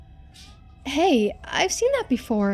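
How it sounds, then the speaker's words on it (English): A pet cat meows several times while playing with a toy indoors, the calls loud, close and bending in pitch, overlapping a person speaking nearby. "Sorry about my cat, she has a toy."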